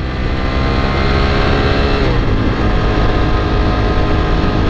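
A Ducati 1198 motorcycle with its stock exhaust, engine droning loud and steady at close range throughout, a continuous heavy rumble with no voices over it.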